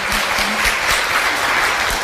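A live talk-event audience claps loudly and continuously, dense, close and steady throughout, with no voices rising above it.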